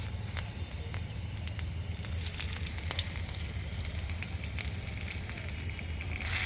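Bay leaf, five-spice seeds, dried red chilli, chopped onion and garlic frying in oil in a pan, a steady close sizzle with scattered crackles and pops and occasional stirring.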